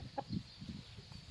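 A chicken clucks a few short, soft times beside a rural field, fairly close over a low background hum.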